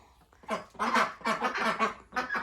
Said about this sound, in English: Look at those ducklings.